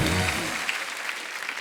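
Studio audience applauding guests on The Kapil Sharma Show, a Hindi comedy show: a short, dense burst of clapping that fills the room, with a voice briefly audible at the start.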